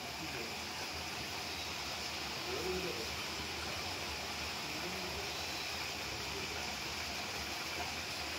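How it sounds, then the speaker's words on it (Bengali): Continuous rushing water flowing nearby along the road to Darjeeling, a steady broadband wash filling the scene, with faint bird chirps barely poking through. "কি সুন্দর জলের আওয়াজ, কি সুন্দর পাখির আওয়াজ, শুনুন একবার"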